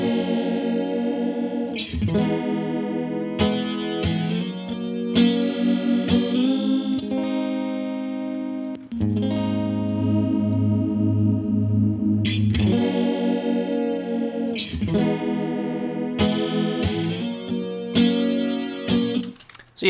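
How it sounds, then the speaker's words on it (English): An electric guitar runs through the Helix Native poly detune chorus effect in mono. Sustained, shimmering distorted chords ring out in a steady sequence, loud and close, with no talking. "it's basically kind of it's a chorus effect. But it's running in mono"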